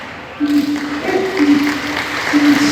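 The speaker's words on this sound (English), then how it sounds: "I said one single clap, not a round of applause" Audience applause at a zoo sea lion show starts abruptly after a quiet moment and carries on as a moderate, uneven clatter of many hands, with a steady tonal note sounding on and off beneath it.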